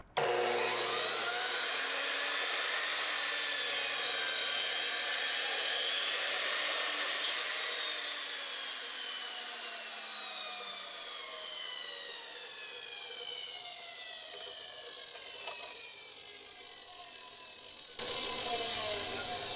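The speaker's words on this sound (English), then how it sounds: "So let's see if it'll fit on this saw." A power saw cuts through a wooden board in one long, loud continuous whine that holds steady, then dips slightly in pitch and level as the blade works through the wood, with no talking.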